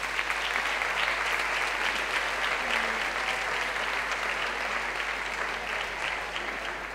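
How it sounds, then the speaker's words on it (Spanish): Steady, dense applause from a large crowd at a town festival proclamation and coronation in Guardamar fills the whole stretch, loud and sustained without pause. "Un aplauso para todos ellos, por favor."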